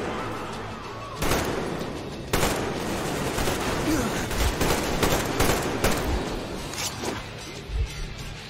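Gunfire in the shooter game Metro Exodus: loud bursts of rapid automatic shots and single cracks, some close and some farther off, recurring irregularly throughout.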